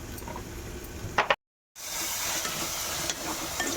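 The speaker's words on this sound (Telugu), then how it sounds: "మధ్య మధ్యలో ఉల్లిపాయలు కలుపుకుంటూ ఉండాలి, లేకపోతే మాడిపోతాయి" Onions fry in a pan with a steady sizzle, broken by a couple of stirring scrapes and a short silent gap before the frying hiss resumes.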